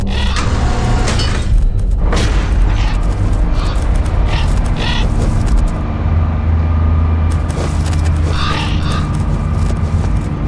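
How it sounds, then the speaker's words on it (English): A cargo elevator in Metal Gear Solid The Twin Snakes moves with a loud, steady low mechanical rumble and hum, with some clanking and a brief high whine midway. "And we're going back up to this cargo elevator."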